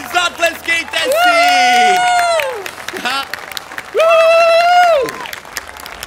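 A children's audience at a live kids' show applauds in two bursts, with clapping and crowd noise beneath loud sung or drawn-out voices over amplified sound.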